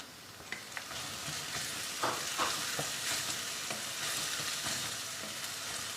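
Okra frying on high flame with chopped ginger and garlic, a dense continuous sizzle with frequent spatula stirs and scrapes punctuating the hiss.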